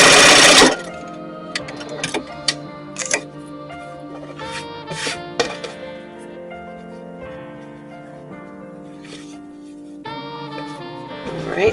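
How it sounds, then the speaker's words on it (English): A sewing machine stitches fabric with a steady close mechanical whir and rhythmic needle tapping, pausing briefly in places before picking up again, with no talking over it. "we're going to go ahead and put our needle down, and we're going to go ahead and sew this all the way"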